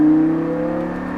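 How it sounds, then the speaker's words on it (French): A Lamborghini Gallardo LP560 at full throttle on the Circuit du Var track produces a loud, steady engine drone that eases slightly over a brief moment, with no voices. "Allez, gaz à fond."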